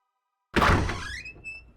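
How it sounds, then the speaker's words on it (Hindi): A door is pulled open in a single sharp thunk, followed by a short creaking squeak as it swings, heard close and alone in a quiet room. "जा दरवाजा खोल।"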